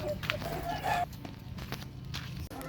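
Young stag roosters cluck and call in a pen, with short fowl sounds scattered over a steady background hum, fairly close and moderately loud.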